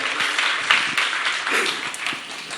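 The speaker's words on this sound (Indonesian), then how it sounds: "Berikan tepuk tangan bagi Dia" A church congregation applauds God after a sermon line, a short, moderately loud patter of many hands clapping at a distance.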